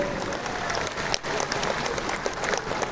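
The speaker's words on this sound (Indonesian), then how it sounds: "Kita berikan aplaus." An audience at a Golkar party speech event gives the Vice President a round of sustained applause, dense close clapping that fills the whole stretch with a brief dip midway.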